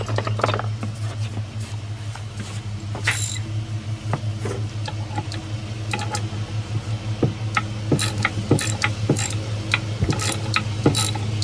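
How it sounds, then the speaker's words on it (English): Ratchet tightening down a pulley while a Japanese tea house deck railing is built, heard as quick clicking bursts over a steady low hum with scattered knocks. "Get my ratchet and tighten that pulley down."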